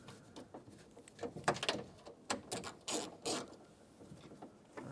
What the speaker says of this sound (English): Take your 10mm socket and loosen up this bolt over here.